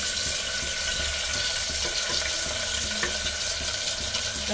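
Onions frying in oil in a deep ladle for liver gravy, with curry leaves added, make a steady, dense sizzle that holds evenly throughout at close range, with no talking over it.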